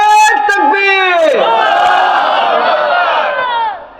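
Crowd at a Sunni gathering at Miranía Darbar Sharif roars back in loud unison after a takbir call, a sustained massed shout of voices that fades at the end.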